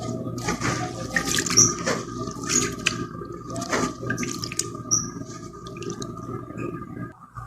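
Rice grains being rinsed in water by hand before cooking with coconut, sugar and salp; steady splashing, swishing and running water continue through, close and moderately loud, no voices.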